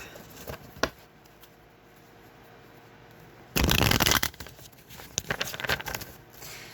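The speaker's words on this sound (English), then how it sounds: "Get one more shuffle for this group." After quiet rustling, a sudden burst of riffle shuffling of tarot cards, cards rapidly flapping together, followed by a few shorter shuffles and taps, close by.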